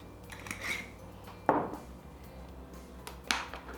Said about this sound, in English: Then I just put the lid on and give it a good shake.